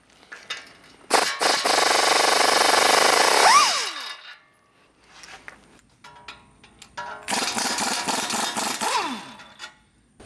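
Power tool, likely an impact wrench, removing lower control arm bolts on a Toyota Tundra during a front coilover lift install: two loud sustained buzzing bursts, each ending with a falling whine, separated by quieter clanks.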